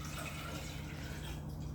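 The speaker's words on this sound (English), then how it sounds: "here we have our watermelon juice, okay? Pour it just like this inside." Watermelon juice pours into a glass for a watermelon mojito, a steady liquid stream running close and continuous, with no talking.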